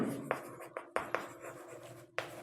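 Chalk or pen strokes on a board in a Class 5 math lesson, several short, sharp scratches and taps in an irregular rhythm, close and fairly quiet.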